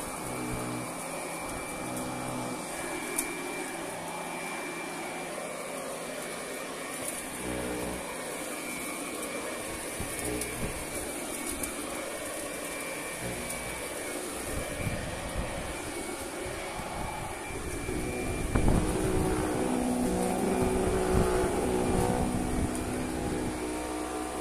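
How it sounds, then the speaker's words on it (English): Wind rushes and buffets against the microphone in a steady roar during a windstorm, swelling louder toward the end. "Sorry if it's a little windy."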